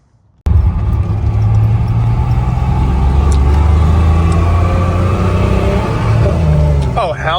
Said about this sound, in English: It's a little rev match.